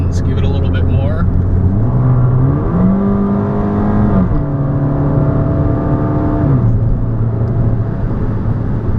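A Fiat Abarth's engine revs while driving, its pitch climbing through the gears in steady pulls with brief dips at each shift, loud and close from inside the car over a constant road rumble.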